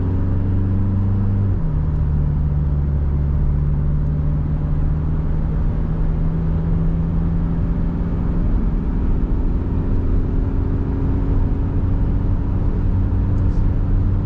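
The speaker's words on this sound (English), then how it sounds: "it's just normal acceleration and driving" A car accelerating normally under light throttle with a transmission that needs a tune, a steady engine drone that drops in pitch as it shifts early on, then holds a smooth, even hum.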